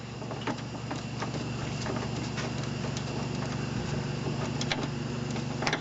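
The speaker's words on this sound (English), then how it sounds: "looks like it's this bolt right here, 10mm, we're going to loosen that." Loosening a 10mm bolt on a Kia Amanti door gives a run of irregular light clicks and ticks over a steady low hum, close by and even in level throughout.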